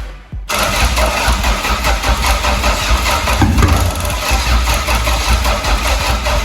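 The single BEAMS Toyota engine turns over after a brief silence, with a sluggish starter that is running hot. It catches into a loud, rough, steady idle that runs close for the rest of the time.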